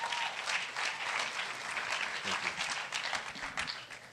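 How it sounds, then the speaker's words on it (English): Audience applause at a speaker evening in Vancouver, a moderately loud, steady wash of many hands clapping throughout, with no speech over it. "big round of applause for our ever-gracious, perfectly punctual Sharad Khare"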